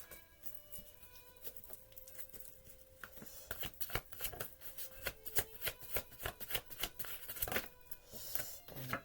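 Playing cards are shuffled and riffled close by, a run of quick, crisp flicks and taps that grow denser and louder partway through.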